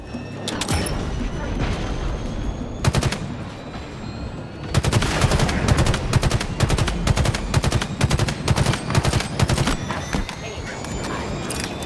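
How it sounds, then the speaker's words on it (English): Gunfire in the video game Halo Infinite aimed at a silo: scattered single shots at first, then a long rapid automatic burst of sharp, loud reports, closely spaced and punchy. "So I figured, let's just shoot this thing."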